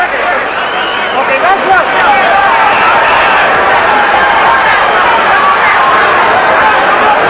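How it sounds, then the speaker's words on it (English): A boxing crowd in a carpeted convention-centre arena cheers loudly through the final round of a Matthew Hilton bout. The roar is continuous and close, with babble and shouts mixed in, and a commentator's voice runs over it. "the crowd virtually on their feet in this carpeted arena"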